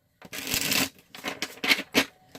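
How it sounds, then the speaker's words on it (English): Tarot cards being shuffled by hand, a few short papery riffles and taps in quick succession, close and quiet with no talking. "let's shuffle these cards"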